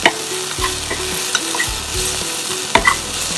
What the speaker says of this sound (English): Just a little bit, and we let it saute.